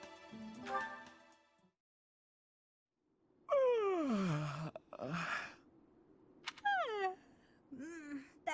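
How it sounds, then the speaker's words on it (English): A character in the Fire Emblem video game gives a loud, drawn-out voiced yawn that slides downward in pitch, followed by several shorter sighing groans and exhales, separated by brief silences. "How do you not notice him? He's yawning very loudly."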